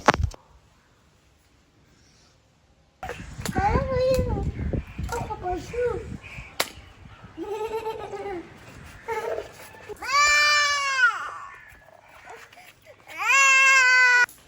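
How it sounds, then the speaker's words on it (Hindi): Toddlers crying at home in a busy household, with rising and falling wails and whimpers in several bursts, loud and fairly close, mixed with babbling and someone speaking between them. "इनकी रोने की आवाज़ बीच बीच में मुझे आती है"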